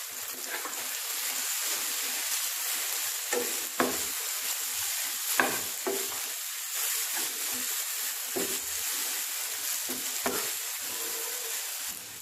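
Red chilli powder sizzles in hot oil for a dal tadka tempering, a steady close frying hiss with occasional stirring scrapes and crackles, no voices.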